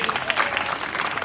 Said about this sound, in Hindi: तो जोरदार तालियां मुस्कान के लिए हो जाए भाई